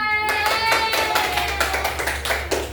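Classroom students clap their hands at the end of an elementary science microteaching lesson, a quick run of sharp claps, fairly close, over a low steady hum after a brief tone fades at the start.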